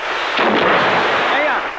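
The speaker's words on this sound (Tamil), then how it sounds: "இப்ப வெடி வெடிச்சது அந்த சத்தம் கேட்கலையான்னு கேட்டேன்" A loud, close blast of a firecracker booms and rolls out into a rumbling, echoing decay lasting under two seconds.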